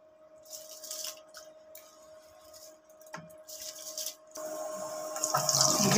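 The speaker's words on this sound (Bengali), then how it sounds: "চালটা দিয়ে দিব এখন।" Washed rice pours into hot water in a rice cooker, a splashing, rushing pour that swells near the end, following a few quieter wet clinks and a steady background hum.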